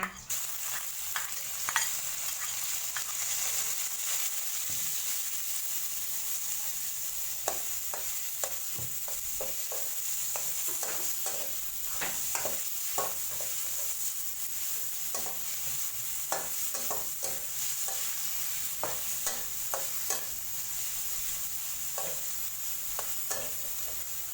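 Pork stir-fried with golden fried garlic in a pan for a carrot and pork macaroni dish, a steady sizzle with repeated scraping clicks of a spatula throughout, close and continuous.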